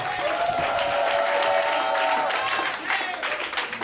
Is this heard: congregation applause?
yes